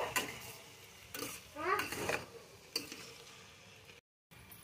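A spoon scraping and clinking against a pan while mustard greens and potato curry are stirred and mixed, several short metallic strokes close up, with no talking.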